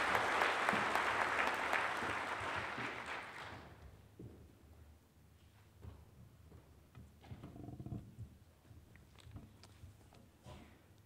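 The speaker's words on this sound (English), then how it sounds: "please put your hands together and thank Pavan" A conference audience applauds speaker Pavan Sukhdev. The clapping is dense and sustained for a few seconds and then thins out, followed by quieter scattered claps and rustling in the hall.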